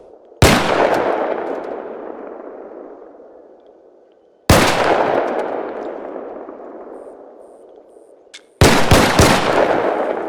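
Three loud, widely spaced gunshots at a firing range in Arc Raiders, each a sharp crack followed by a long echoing decay, with no talk.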